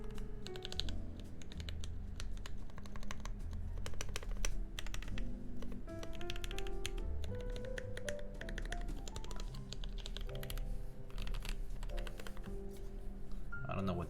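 Typing on a TMO50 mechanical keyboard gives rapid, close clicky keystrokes in a continuous uneven patter, with a voice talking faintly underneath.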